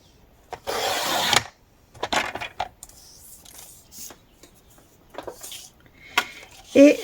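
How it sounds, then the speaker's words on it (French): A leftover scrap of scrapbooking paper is cut with scissors and handled on a tabletop, giving scattered short rustles and crisp snips with brief pauses between them, close and fairly quiet. "on reprend cette chute que l'on va venir couper à 6 cm"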